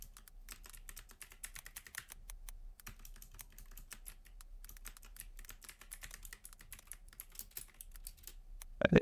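Rapid, steady typing on a computer keyboard while writing a wiki page, dense close key clicks running continuously with a few short pauses, no voices.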